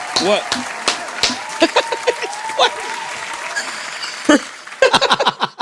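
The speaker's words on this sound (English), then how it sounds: "Y'all clap for anything these days" An audience on a podcast claps briefly in scattered bursts, mixed with laughter and a man's speech over it.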